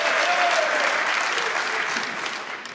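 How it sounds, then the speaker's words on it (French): A crowd in the Elispace arena applauds during a L'Équipe trophy men's individual semi-final, dense continuous clapping that fades slightly toward the end. "elle l'a applaudi à tout rompre"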